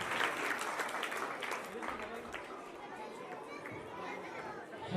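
An audience at a government senior secondary school's annual honors ceremony applauds loudly, dense clapping filling the space while children chatter and voices murmur underneath, easing slightly toward the end.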